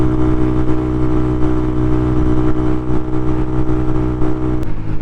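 Honda Monkey bike fitted with a Yoshimura exhaust accelerating uphill, a loud steady engine drone held close throughout with brief throttle variations and a slight drop near the end.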